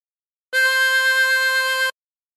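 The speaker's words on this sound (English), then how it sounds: "And blow into four." A harmonica note blown on hole four, held steady for well over a second with a faint pulsing waver, clear and close-miked with no other sound.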